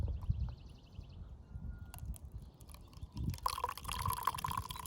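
Coffee pours into a cup outdoors at a campsite in a soft trickle, growing fuller and splashier toward the end, with faint clinks and small handling noises.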